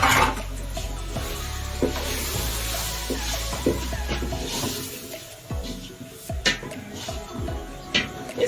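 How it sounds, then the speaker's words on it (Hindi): Chicken sizzles and fries in a pan with yogurt while a utensil scrapes and stirs, with rough rhythmic rubbing over a steady hiss. "ताकि हम चिकन अच्छे से भून लें।"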